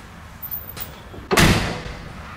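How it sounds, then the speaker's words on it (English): A door on a classic Packard car shut firmly once, a single solid thud after a brief faint handling sound, heard close with no speech. "Has a very solid feel to it when you shut the door."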